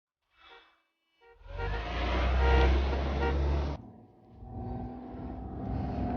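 A car engine roars up loudly and holds for a couple of seconds before cutting off, followed by a lower rumble of the car pulling away with a faint tonal horn-like note in the background.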